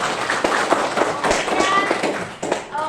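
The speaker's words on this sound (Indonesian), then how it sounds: "Tepuk tangan dulu ibu kita." A classroom group claps steadily for a teacher during a guidance lesson. The close, dense clapping runs for about two and a half seconds with some voices mixed in, then thins out and fades near the end.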